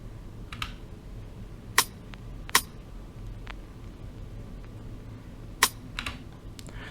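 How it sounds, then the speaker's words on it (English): A rim sample programmed into a melodic guitar hip-hop beat in FL Studio, sounding as a few sharp, dry clicks spaced irregularly over a faint background, with no voices. "Alright, so from there I just added a rim."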